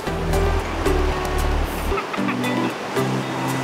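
River water rushing and splashing steadily around a swimmer in summer heat, a broad continuous wash up close, with low tonal hum layered underneath and a quieter stretch midway.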